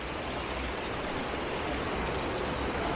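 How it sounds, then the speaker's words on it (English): Running water of a woodland waterfall at Horner Woods, a dense, steady broadband rush close by, unbroken for the whole stretch with no voices over it. "The sound of running water is just so relaxing."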